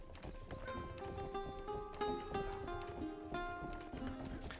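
A horse galloping in the video game Rustler, its hooves clip-clopping in a steady, fast rhythm at a low level, with a tune playing underneath.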